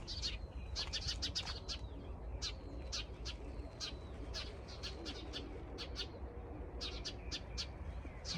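Birds chirp and call in repeated short bursts outdoors on a farm in Korea, fairly close, over a steady low rumble of background ambience with no talking.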